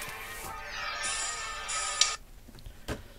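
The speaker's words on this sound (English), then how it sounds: "now as my phone goes off" A mobile phone rings with a bright, repeating electronic tone, layered with high sustained pitches. It sounds moderately loud against background room noise, and a short knock or tap follows after the ringing stops.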